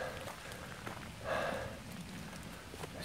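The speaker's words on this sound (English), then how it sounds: "the rain is just starting to let up just a little bit" Rain patters steadily on the surrounding surfaces during a hike through the Charles C. Deam Wilderness, a continuous wet hiss with a brief louder swell midway and no voices.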